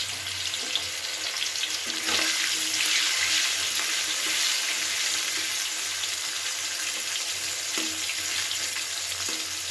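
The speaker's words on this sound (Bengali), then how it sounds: "আলুর পরে এবারে উচ্ছেগুলোকে ভেজে নিচ্ছি।" Bitter gourd pieces fry in hot oil in a kitchen, giving a steady, bright sizzle that crackles continuously up close with no one speaking.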